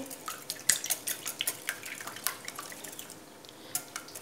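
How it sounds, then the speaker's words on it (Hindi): Eggs whisked in a bowl for a semolina and egg halwa, heard as a run of quick, light wet taps and clinks close by, steady and fairly quiet with no talking. "अंडों को अच्छे तरीके से फेंट लेंगे।"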